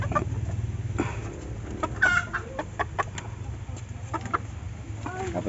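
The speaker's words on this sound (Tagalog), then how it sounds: "Ito yung huli rin na sisiw." A caught chick and chickens cluck and peep in short bursts over a steady low farmyard hum, moderately close, with faint voices in the background.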